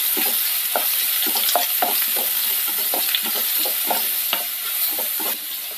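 Sliced onions sauté in a hot pan for a Kerala-style thoran, giving a steady close sizzle throughout with a series of soft scraping stirs spaced about every half second, no voices.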